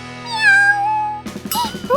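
A single drawn-out cat meow, clear and close, followed by a brief burst of higher chirpy mewing sounds.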